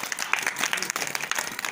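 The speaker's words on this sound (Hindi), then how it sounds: "हाँ ताली बजाओ क्लैपिंग" Children clapping their hands together at a small thanks-day gathering, a brisk, steady patter of overlapping claps close by with faint voices underneath.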